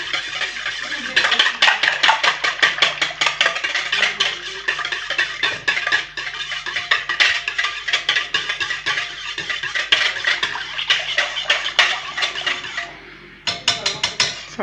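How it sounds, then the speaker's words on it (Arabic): Dough ingredients and a glass of oil stirred together in a bowl, a busy run of scraping and clinking knocks against the bowl, repeated steadily and fairly close for the whole stretch. "ونحرك."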